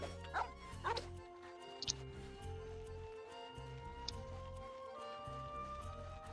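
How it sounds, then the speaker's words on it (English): A dog in the video game Genshin Impact gives a couple of sharp barks and yips early on, then quieter whimpering over a low game music bed with repeating tones. "Dog!"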